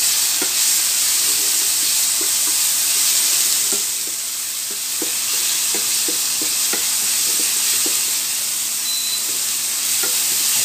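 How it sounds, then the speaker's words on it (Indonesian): Ground spice paste stir-fried in hot oil in a pan, a steady close sizzling hiss with scattered soft scraping clicks from stirring, no talking. "bumbu yang sudah saya haluskan tinggal saya oseng dulu ya"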